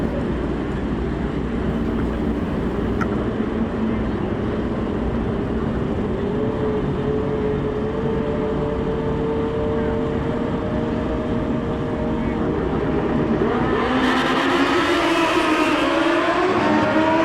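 Drag racing motorcycles, including a Hayabusa, roar continuously as they launch down the strip at the 2019 Mancup World Finals. The engine pitch climbs steadily toward the end as the bikes accelerate away.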